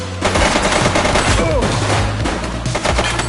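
Sustained gunfire from the police video game The Precinct, dense rapid bursts like a machine gun fusillade filling the whole stretch, loud and close with a steady rumble beneath.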